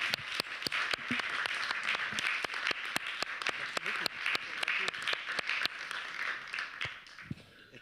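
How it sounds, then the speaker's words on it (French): An audience at a French talk about the graphic artist Martin Panchaud applauds steadily, a dense wash of clapping punctuated by sharp individual claps, moderately loud and unbroken for several seconds before tapering at the end. "Je vous propose qu'on puisse applaudir d'ores et déjà Martin Panchaud."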